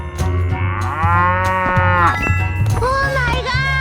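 A cartoon cow gives a long, loud moo in a 3D animal slide video game, with a bell-like jingle and bright game chimes following over a steady low hum.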